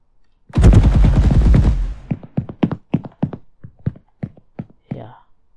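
Enemy AI open fire in an Unreal Engine 5 demo: a dense burst of automatic gunfire gives way to a spaced series of single loud shots, each sharp and isolated against near silence.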